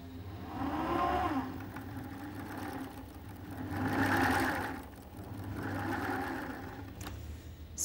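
A domestic sewing machine runs steadily for several seconds with a mechanical whir that swells and eases in three passes, fairly close, with no talk over it.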